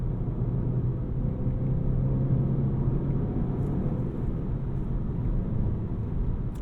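A low, steady artificial engine drone fills the cabin of a 2020 Volkswagen Golf GTI, a constant rumbling hum with no talking over it.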